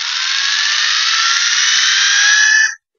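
Steady electric epilator buzzing close up, a continuous mid-to-high whirring hum held evenly for nearly three seconds before cutting off abruptly, with no voices.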